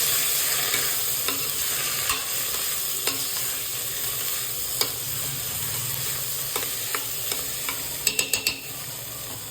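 A spoon stirs mixed vegetable khichdi in a pot over a soft continuous sizzle, with scattered scrapes and knocks and a quick burst of clinks near the end.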